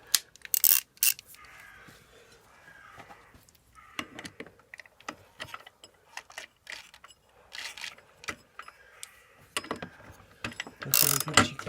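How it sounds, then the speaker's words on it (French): A small ratchet tightens a small bolt while changing a pusher spring. Bursts of rapid close clicking alternate with short pauses and faint handling noise. "Puis on va serrer avec le petit cliquet."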